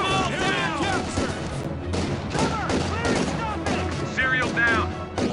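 Gunfire and battle effects from the World War II strategy game Company of Heroes 2, in a forest battle, with bursts of shots and explosions running throughout under constant shouted voices and in-game chatter.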